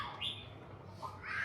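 Birds call in short, harsh squawks near a Vietnamese fishing village and port, spread over a second and a half against open outdoor ambience.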